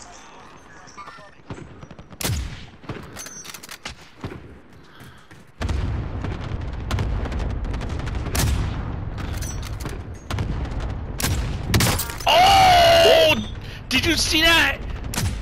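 Gunfire in Call of Duty: Modern Warfare plays as sharp single shots at first, then as dense, loud bursts of rapid fire with booms. Players talk over the shooting.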